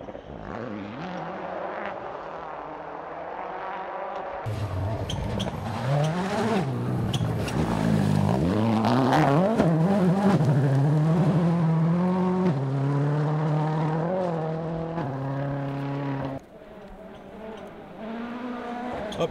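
Ford Focus RS WRC rally car on a stage, engine revving hard through rising and falling gear changes as it accelerates past, loud and near, with a sharp shift in tone partway through and no talking.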